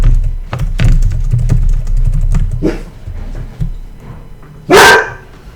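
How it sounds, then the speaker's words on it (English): A dog barks close by in a room, several sharp barks over a steady low hum, ending with one loud burst. "The barking dog."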